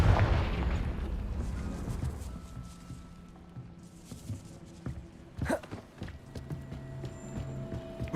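A Confringo blasting spell erupts in a fantasy video game, a heavy booming explosion that rumbles and fades over a few seconds, followed by scattered thuds and debris noises.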